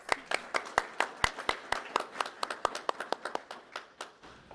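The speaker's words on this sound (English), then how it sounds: "we'll give Emily a round of applause" Scattered applause from an audience at a university's 40th-anniversary law and religion event: crisp individual claps in an uneven, loosely spaced rhythm that fades toward the end.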